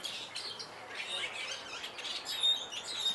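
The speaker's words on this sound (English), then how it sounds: "you can hear the birds" Small birds chirp and tweet faintly near the river by London Bridge at Lake Havasu, with thin high calls scattered over a steady outdoor background.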